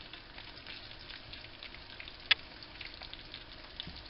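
Food frying in oil in a pan, a steady, soft crackling sizzle with scattered pops and one sharper spit.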